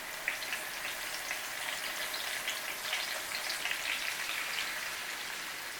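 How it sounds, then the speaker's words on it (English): Salmon fillets sear in a hot pan over medium-high heat, giving off a steady, even sizzle with fine crackling spits throughout. The sound is continuous and moderately close, with no voices. "now it's ready to be pan fried. So put it in."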